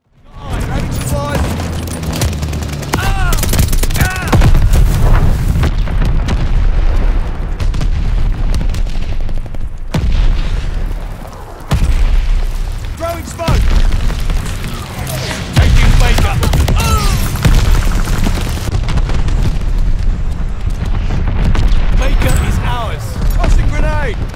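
Friendly mortar fire in Call of Duty: Vanguard, the multiplayer video game: repeated loud booms and distant blasts roll on steadily, mixed with gunfire and radio-style announcer voices throughout.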